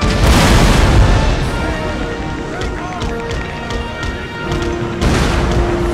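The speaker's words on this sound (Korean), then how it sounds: "아, 이번엔 포도탄이다." Cannon firing grapeshot in Empire: Total War, heavy booms and bursts rolling under someone talking, with battlefield din and crowd noise throughout.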